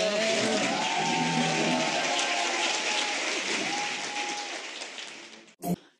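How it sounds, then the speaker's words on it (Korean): A studio audience at a Korean political talk show claps steadily in a dense, even round of applause that tapers off, ending with a brief thump. "박수 부탁드립니다."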